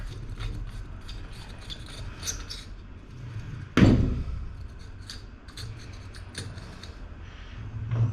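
Flat blade screwdriver working parts loose on an old Coleman camping stove: small metallic ticks and scrapes, with one sharp, loud clack partway through.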